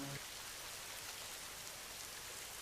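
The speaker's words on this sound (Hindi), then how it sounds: "बारिश का मौसम है" Steady rain falls through the rainy season around a small, poorly kept house, a continuous even hiss with no breaks and no clear drops standing out, heard alone without voices.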